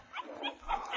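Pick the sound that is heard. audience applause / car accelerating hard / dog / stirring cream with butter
dog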